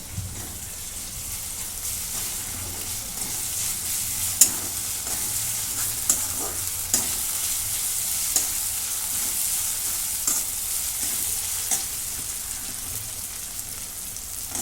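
Onion and ginger-garlic paste sautéing in a pan, a steady close sizzle with frequent stirring scrapes, some clicking louder than the rest, and no voices.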